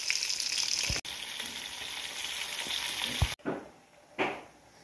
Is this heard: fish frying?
yes